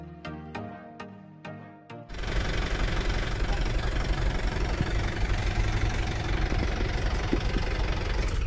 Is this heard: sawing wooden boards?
no